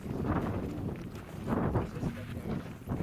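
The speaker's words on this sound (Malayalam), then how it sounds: "നല്ല തണുത്ത കാറ്റടിക്കുന്നുണ്ട്" Cold wind blows over a hilltop in Djibouti, buffeting the microphone in uneven, rumbling gusts.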